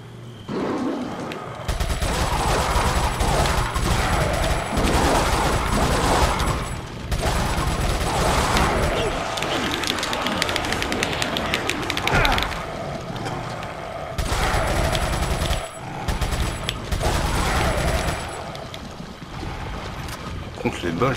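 Gunfire in Resident Evil 4, in the gardens of Ramon Salazar's castle: loud sustained bursts of rapid shots in several long stretches with short pauses between them, while someone talks over the action.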